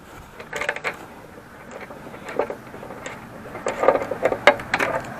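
A nut is backed off and a bolt unthreaded during a truck tailgate assist install on a Ram, giving close, intermittent metallic clicks and ratcheting scrapes in short bursts over a quiet background.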